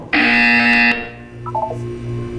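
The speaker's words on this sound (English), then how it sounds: "When you hear the buzzer, look down at the floor." A loud, harsh buzzer blares for almost a second inside a Minecraft game, followed by softer electronic blips and a low hum.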